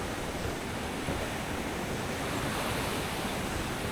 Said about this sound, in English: 好大个漩涡呀